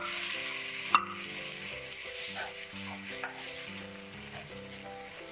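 Onions and mild canned green chilies sizzle steadily in a pan, a continuous close frying hiss with a sharp clink near the start and occasional stirring scrapes, no voices.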